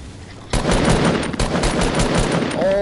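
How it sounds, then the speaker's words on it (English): Rapid automatic gunfire in the battle royale game Fortnite: a loud, continuous burst of close shots that starts abruptly, briefly breaks, and then resumes, with no talk over it. "Oh, you're getting shot, you're getting shot."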